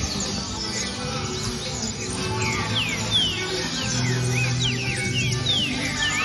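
Green-winged saltator (trinca-ferro) singing at a bird tournament in the United States, repeated short whistled chirps and sweeping notes at moderate distance over a busy background murmur of other birds.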